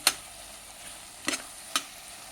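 Ingredients sizzle faintly in a pan for dal khichdi, a quiet steady hiss broken by three sharp stirring scrapes, near and alone.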